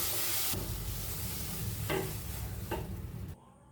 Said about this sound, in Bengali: এটার বাইন্ডিং আনার জন্য আমি এই হাফ টিস্পুন চালের গুঁড়ো দিয়েই নাড়তে হবে, না দলা বেঁধে যাবে।